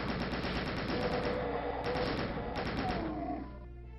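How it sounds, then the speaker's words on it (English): A chain gun in Doom (1993) fires in rapid, steady bursts of loud metallic shots, with a few short pauses between volleys before it stops near the end. "Switch to chain gun."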